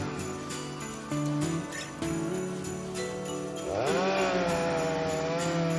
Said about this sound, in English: show Anderson how a chainsaw works